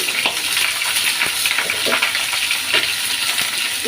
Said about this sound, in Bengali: আমি হালকা করে একটু ভেজে নেব